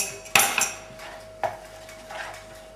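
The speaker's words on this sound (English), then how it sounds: "we're going to add the egg. Mix that well so it doesn't scramble." A utensil clanks against a bowl while egg is mixed into a meatloaf mixture. Three distinct metallic strikes ring out, spaced apart, each followed by a short, fading scrape.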